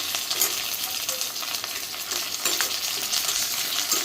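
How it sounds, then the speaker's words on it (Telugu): Onions and green chillies fry in a pan with a dense, continuous crackling sizzle, close and fairly loud, with faint scrapes of stirring over the steady hiss. "ఉల్లిపాయలు, పచ్చిమిర్చి వేసి వేయించాలి."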